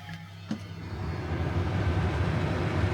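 A campervan air conditioner starts with a faint click, then settles into a steady low hum that builds slightly and keeps running close by, with no voices.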